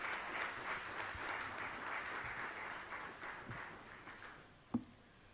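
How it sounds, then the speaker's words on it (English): An audience at a mining conference in Ranchi gives a round of applause welcoming the session chair onto the stage. The clapping is soft and distant, fading out, and ends with one sharp thud. "May I request a warm round of applause to welcome our session chair"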